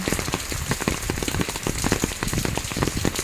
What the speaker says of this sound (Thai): มาเลยฝน